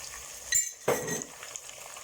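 Onions with half a spoon of cumin frying in a pan while cooking yakhni pulao, a brief clatter followed by a soft sizzle burst, then a low steady frying hiss.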